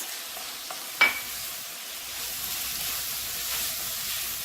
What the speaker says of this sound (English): now I'm going to add my sun-dried tomatoes